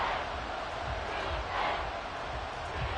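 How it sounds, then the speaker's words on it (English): Dense, steady roar of a stadium crowd cheering in the American football video game Madden 24, loud and continuous with swelling surges. "This crowd turning up the decibel level."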